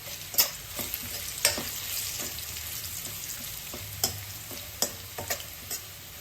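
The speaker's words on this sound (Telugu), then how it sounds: "కొద్దిగా ఉప్పు వేసి రంగు మారేంత వరకు వేయించుకోవాలి ఒక బిర్యానీ ఆకు కూడా వేసుకోవాలి" Onions frying in oil with salt, curry leaves and a bay leaf, a steady close sizzle broken by several sharp stirring scrapes of a spoon against the pan.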